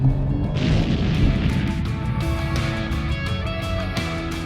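A loud crashing blast effect with a booming low rumble and scattered metallic hits and tonal sweeps layered over it, sustained for several seconds.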